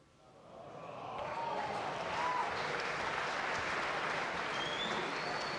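Audience at the 2015 Mosconi Cup pool match breaks into applause, swelling from quiet over about a second into a steady, dense clapping that holds to the end, with faint crowd murmur.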